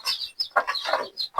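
Native mother hen clucking close by in a sequence of short, rapid, loud clucks, with a few sharper chirp-like bursts mixed in.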